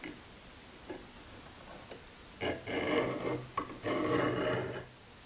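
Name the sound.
scribe marking a circle on a metal lathe faceplate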